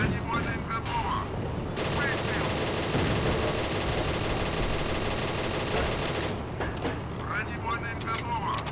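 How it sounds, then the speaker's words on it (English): Sustained machine gun fire from a T-50 tank in the tank game Steel Fury, a continuous dense rattle lasting several seconds, with a voice talking over it at the start and end. "How did he survive that machine gun fire?"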